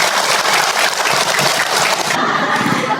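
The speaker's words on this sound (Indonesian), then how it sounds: "Tepuk tangan Ibu untuk Ahilman" Sustained applause from the audience at a Ramadan question-and-answer religious talk, a dense steady wash of many hands clapping at moderate loudness throughout, with no clear speech over it.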